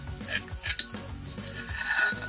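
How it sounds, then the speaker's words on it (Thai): A pounded chili mixture hits hot oil for a Thai stir-fried basil minced beef dish, giving a brief burst of sizzling with scraping stirring strokes, close and fairly quiet. "ที่ตำเมื่อกี้ก็ใส่ลงไปในน้ำมัน"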